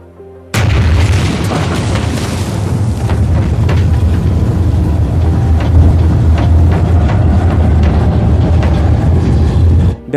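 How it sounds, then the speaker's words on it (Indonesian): A sudden, enormous atomic bomb blast erupts into a deep, continuous roaring rumble that stays loud and unbroken for several seconds. "Dan akhirnya, bom atom buatan Robert Oppenheimer berhasil meledak dengan dahsyat"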